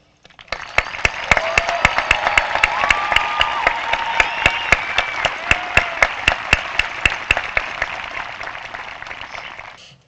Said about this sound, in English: join me in giving the graduating class of 2017 a well-deserved round of applause